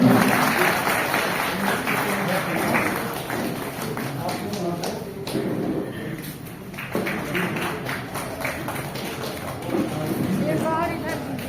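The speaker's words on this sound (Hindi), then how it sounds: "तालियां तालियां तालियां" Steady crowd applause with scattered clapping and voices mixed in at a railway pensioners' association foundation day event, continuous and fairly loud throughout.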